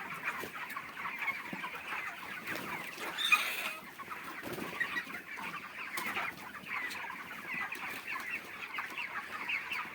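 A flock of farm chickens clucks continuously, many overlapping calls at a steady moderate level, with a slightly louder burst of squawking a few seconds in.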